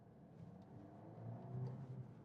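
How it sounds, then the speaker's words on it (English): A 2026 Mercedes CLA with a petrol mild-hybrid engine accelerates onto a road, a subdued, smooth engine hum that rises gently in pitch and loudness, heard from inside the cabin. "So it's also not too loud when you accelerate out that engine"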